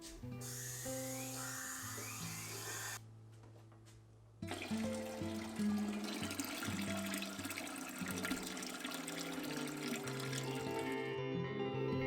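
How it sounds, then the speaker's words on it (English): Water runs from a tap into a pressure canner, a steady rushing and splashing stream that briefly quiets, then resumes louder and fuller until the end. "fill your canner with 2 to 3 inches of water"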